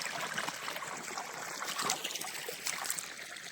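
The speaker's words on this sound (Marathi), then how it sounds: "हे पाणी चालू आहे" At night, irrigation water runs steadily onto a dry farm field, a soft continuous trickle and gurgle heard close by and faint.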